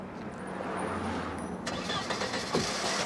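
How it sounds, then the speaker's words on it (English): A Mercedes car engine cranks and starts outdoors by a roadside in 1987, a loud, close rumble with a sharp catch as it fires, set against steady traffic noise. "The car started,"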